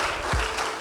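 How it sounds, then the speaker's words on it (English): Audience clapping at a debate championship awards ceremony in a large hall, a steady dense wash of applause filling the whole short moment without pause. "Keep clapping, keep clapping, keep clapping, keep clapping"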